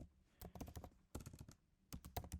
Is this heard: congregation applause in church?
no